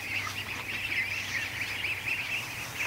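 A flock of more than a hundred ducklings peeps and chirps continuously in a dense, busy chorus as they follow a goose, moderately close with no talking.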